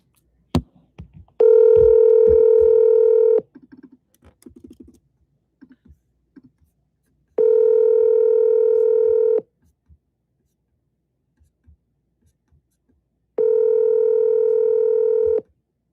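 A phone call rings out in three long, loud, evenly spaced tones about six seconds apart, with quiet clicks and taps between them and no voices.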